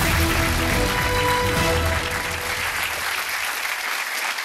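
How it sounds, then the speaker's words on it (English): A live audience at a quiz show applauds a contestant, strong sustained clapping that eases off slightly toward the end while a low hum sits underneath. "Give her a round of applause."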